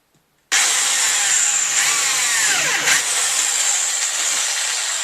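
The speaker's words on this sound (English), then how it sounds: "Right, it's going to chain drill this thing." Power drill chain drilling partway through a part for a trailer build, starting abruptly and running loud and continuous with slight pitch wavers as the bit bites.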